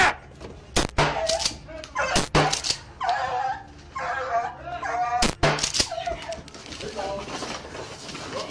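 A dog whimpers and yips in short, high, pleading bursts during a police raid at a home. Voices shout and talk between the cries, and there are sharp, loud bangs.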